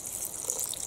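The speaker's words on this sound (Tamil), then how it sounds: "இதே கப்பால் 4 கப் வந்து தேங்காய் பால் சேர்த்துக்க போகிறேன்" Coconut milk pours into rice for a coconut milk masala rice, making a brief, close, steady liquid gush with no talk.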